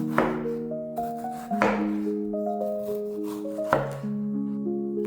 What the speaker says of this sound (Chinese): 然后把番茄切成片状